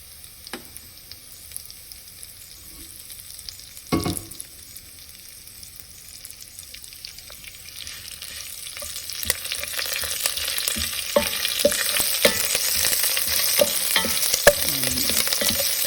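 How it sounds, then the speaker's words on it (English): Curry leaves and cumin fry in hot oil for a black chickpea curry. The sizzle starts quietly with a single knock, then builds into a loud, steady crackle with scattered pops near the pan. "Let the curry leaf fry a little bit."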